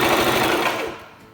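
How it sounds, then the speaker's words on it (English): A sewing machine stitches a fabric face mask, its motor humming steadily and loud up close before winding down and fading near the end. "Now let's take it to the sewing machine and see how this side is stitched."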